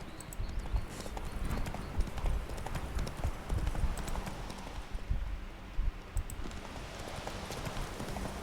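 Horse hooves galloping in The Witcher 3 video game, a fast continuous clip-clop rhythm on the ground, steady and fairly close throughout, with faint background ambience.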